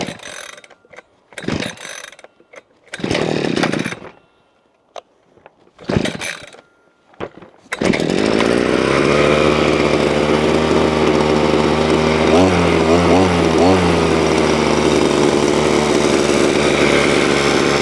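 A VEVOR 52cc two-stroke gas multi-tool trimmer engine. A few ratcheting pull-start tugs come first, then the engine catches and runs in a steady loud buzzing drone up close with a slight fluttering wobble.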